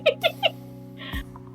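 Three short, clear meows from a cat in the video game Nightbane, evenly spaced near the start, followed by a low game hum and brief soft noises.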